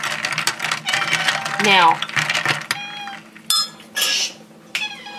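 Spoon stirring an iced tea cooler of lemon juice and Torani orange syrup in a glass, with clinking, scraping and ringing taps against the glass coming in bursts, under and between a woman's speech.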